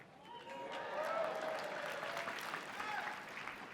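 Conference audience in a real estate talk applauding and whooping together, a steady wash of clapping with scattered cheers that swells early and holds throughout.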